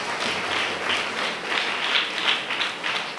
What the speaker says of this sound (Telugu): చప్పట్లు కొట్టి ఆయనకు కృతజ్ఞతలు తెలియపరుస్తాం